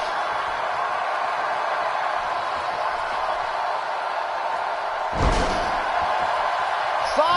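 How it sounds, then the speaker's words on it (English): A wrestler slammed onto steel ring steps in the WWE 2K18 video game, a single heavy thud partway through, under a steady crowd roar and commentary. "Oh, she slammed her on top of the steps."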